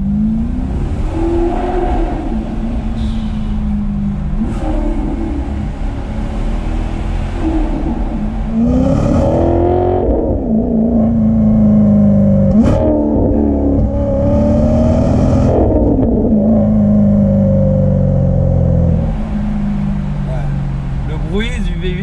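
A Maserati GranTurismo MC Stradale engine revs loud and close, rising and falling through repeated gear changes for about twenty seconds, with a voice speaking over it throughout.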